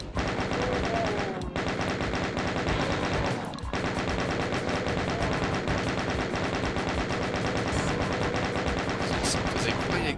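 A chain gun in the video game DOOM 2 fires in a dense, continuous stream of rapid shots. The loud rattle runs almost unbroken for the full stretch, with only brief gaps.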